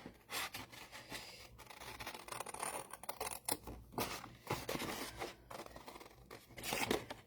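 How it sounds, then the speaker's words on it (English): Scissors snip around the edges of small quilt fabric pieces, giving a close run of crisp, uneven cutting crunches with no talking. "we're just going to cut around the edge"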